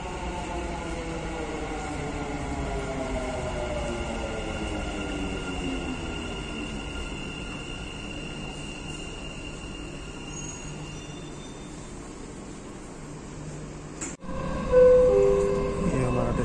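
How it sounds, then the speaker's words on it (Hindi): A Dubai metro train bound for Mall of the Emirates glides in with a steady rolling hum and high squealing wheel tones, followed by a sharp click and a brief beeping chime near the end. "अपनी मेट्रो आ चुकी है अभी मॉल ऑफ द एमिरेट्स के लिए"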